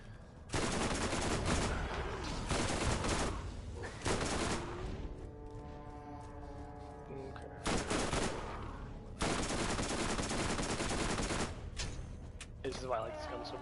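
Gunfire from a weapon in the shooter game Borderlands: long sustained bursts of rapid shots, loud and dense, broken by a quieter stretch with a ringing tone, and short pauses between volleys.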